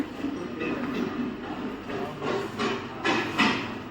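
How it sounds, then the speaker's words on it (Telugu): At a mock railway station on the Ramoji Film City set, a Mumbai–Bhubaneswar train rumbles along with rhythmic rattling bursts that swell toward the end, moderately loud and without talk. "ఇది ముంబై భువనేశ్వర్ ట్రైన్ అండి."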